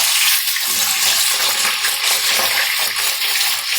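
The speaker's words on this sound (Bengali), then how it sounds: "এই তেলেই মাছগুলোকেও ভেজে নেব।" Fish heads fry in hot oil in a wok for Bengali murighonto, giving a loud, dense, continuous sizzle with scattered crackles and pops throughout.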